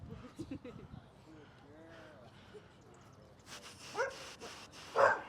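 A dog at a group training class whimpers and yips softly at first, then gives a few louder barks toward the end, heard close by under faint human voices.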